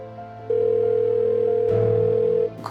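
A telephone call goes unanswered, and one long, steady ringback tone holds for about two seconds with no voices over it.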